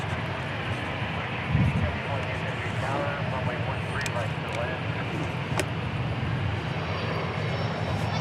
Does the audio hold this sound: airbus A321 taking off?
yes